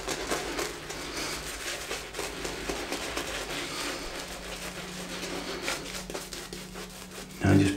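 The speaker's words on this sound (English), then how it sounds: "Now I'm just painting it and then splaying it a little bit and then painting it." Soft, continuous wet rubbing and swishing sounds of a soft shaving brush building lather from Martin de Candre soap, close and steady, with a brief louder thump at the end.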